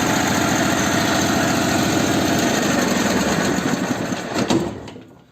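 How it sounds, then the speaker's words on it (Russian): Two-cylinder Ural or Dnepr motorcycle engine idling after carburettor balancing, a loud steady throb close by that wavers near the end and then fades away. "Все, теперь у меня оба цилиндра делают одинаковую отдачу мощности."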